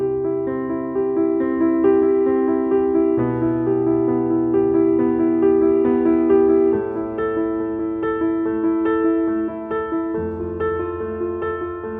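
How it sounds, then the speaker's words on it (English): Piano chord exercise for beginners played at a quicker tempo with both hands, sustained chords changing every few seconds under a steady bass line, clear and close with no talking. "For the next step, we play this also a little faster, and then it sounds like this."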